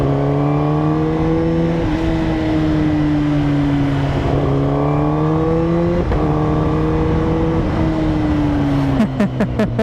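An inline-four motorcycle engine screams at high RPM in repeated long pulls, each rising in pitch with a sharp shift break between them, then ends in a burst of crackling pops; loud, close and with no speech.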